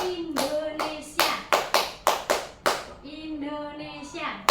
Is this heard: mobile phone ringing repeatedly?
no